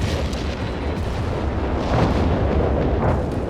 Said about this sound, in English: the Panther Fleet taking heavy fire from the artillery as well here